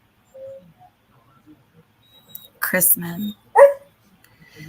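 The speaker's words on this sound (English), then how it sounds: "My doggy needs to go outside." A pet dog barks a few times close by, short sharp yaps that follow quiet talk from a person nearby.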